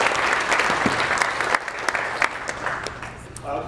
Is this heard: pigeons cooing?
no